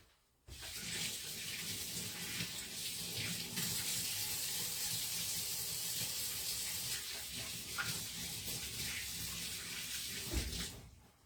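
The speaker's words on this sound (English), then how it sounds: "let me wash my hands one more time" Water runs steadily from a tap during handwashing, a continuous broadband splashing hiss lasting about eleven seconds and fairly quiet, with no talking.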